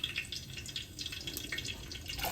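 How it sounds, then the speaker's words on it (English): Water draining off boiled potatoes, a faint run of uneven drips and trickles splashing into a sink. "draining the water from the potatoes,"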